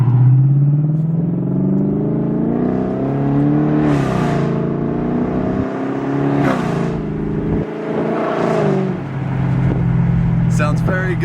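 A 2007 Lexus LS 460 with a 4.6-liter V8 and modified exhaust, revved hard about three times at close range. Each rev swells into a deep, loud roar and falls back to a steady idle rumble, with a voice audible over it.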